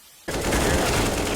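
In a shooter video game, a dense burst of rapid gunfire starts abruptly and keeps going, loud and continuous, with no talking.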